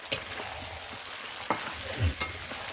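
Chicken curry sautéing in oil in a pan, a steady close sizzle broken by a few sharp scrapes and clatters of a spoon against the pan.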